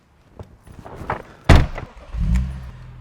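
Someone gets into a car with scattered rustles and clicks of movement, then a solid door thunk near the middle, followed by a low muffled rumble inside the cabin.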